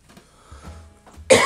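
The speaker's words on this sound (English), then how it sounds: "I still have a little bit of the flu cough." A single sharp cough from a person still getting over the flu, close and loud after a quiet moment indoors.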